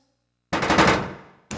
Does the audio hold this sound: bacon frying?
no